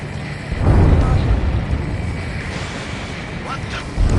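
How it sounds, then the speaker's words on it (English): Huge explosion going off underwater in a jet combat flight game, a deep rumbling boom that swells up and then rolls on under continuous aircraft and battle noise. "That huge explosion just went off underwater."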